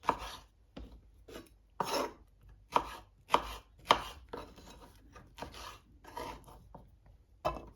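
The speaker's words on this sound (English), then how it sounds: "all we're gonna do is just cut up this mango into cubes" Firm green mango being cut into cubes for chutney, a series of crisp knife strikes on a cutting board, close and distinct, irregularly spaced with short pauses between chops.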